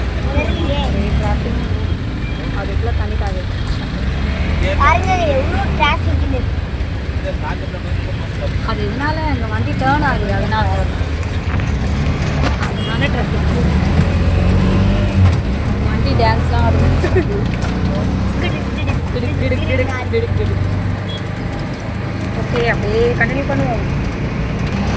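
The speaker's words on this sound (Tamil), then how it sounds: "கொஞ்சம் டிராஃபிக்காக தாங்க இருக்குது" Busy road traffic in Manali New Town, Chennai, heard from a moving vehicle, with a continuous engine rumble, passing vehicles and scattered horn toots, while people talk throughout.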